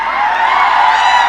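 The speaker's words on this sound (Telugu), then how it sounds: "ఏది వరుణ్ తేజ్ కి కొద్దిగా క్లాప్స్" Audience cheering and clapping at a Telugu film pre-release event for Alluri, a loud, dense continuous crowd roar with whoops, sustained without a break.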